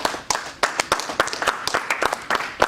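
A church congregation applauds together, a burst of many hands clapping in a quick, uneven rhythm that stays close and steady throughout.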